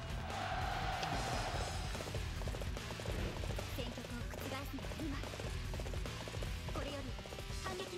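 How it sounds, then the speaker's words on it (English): Horse hooves gallop in a steady, rapid clip-clop through the busy battle noise and music of Dynasty Warriors 8 Empires, continuous and moderately loud. "Oh, come here, you horse."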